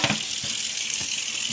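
Water rinsing rusty parts from a Honda CD175 motorcycle, a steady close splash and hiss with a few brief surges, no voices.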